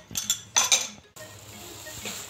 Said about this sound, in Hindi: ये इसको मिक्स करते हैं इस तरह से